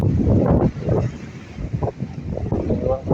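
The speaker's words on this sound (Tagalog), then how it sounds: "Lakas ng hangin at saka malaki ng alon." Strong Amihan wind at sea roars and buffets the microphone without a break, a heavy low rumble that surges and dips throughout.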